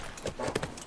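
Horse hooves clip-clop in The Last of Us video game: a few quick, close thuds over about a second, with a faint background hum.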